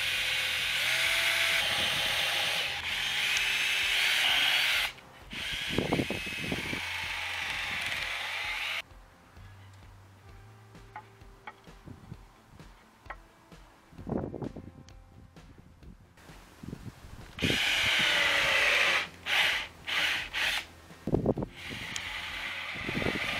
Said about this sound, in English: With the holes drilled around the base, we also need to drill holes in each of the sides